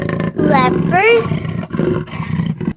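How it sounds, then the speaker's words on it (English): A leopard lets out a loud, rasping roar with rising and falling strained calls, close and forceful over a short burst, with no talking. "Leopard."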